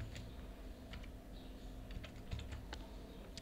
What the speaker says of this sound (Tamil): இப்போ நான் கேப்சாவை கரெக்டாக பார்த்து டைப் பண்ணிக்கலாம்.